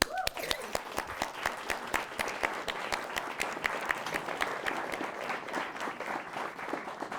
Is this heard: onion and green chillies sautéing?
no